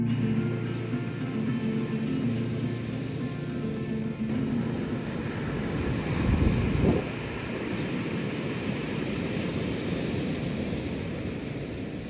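Strong Santa Ana wind blows across Malibu beach at Point Mugu, making a steady, low, roaring rumble with a stronger gust midway, and no voices.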